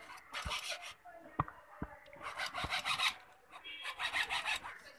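Bamboo being sawn by hand to make a cup, raspy back-and-forth strokes in bursts with short pauses and a few sharp knocks between them, close to the microphone.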